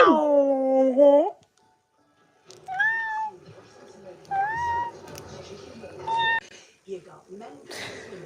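A cat meows loudly and close at the start with a long drawn-out cry, followed by a few shorter, fainter meows mixed with talking and background noise.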